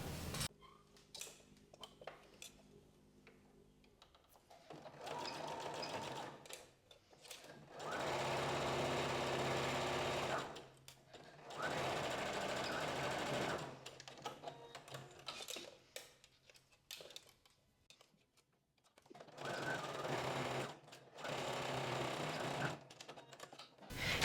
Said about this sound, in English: And now we just pin and sew along the shoulder.